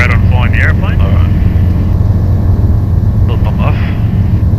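Steady loud drone of a Sling 2 light propeller aircraft in flight, a constant low engine and propeller roar filling the cabin, with brief faint voices from the radio or intercom partway through.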